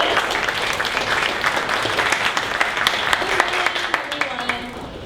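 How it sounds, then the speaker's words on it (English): An audience at a Dallas startup community meetup claps to welcome a speaker to the stage, a dense burst of applause that tapers off toward the end. "please give her a round of applause and welcome her to the stage"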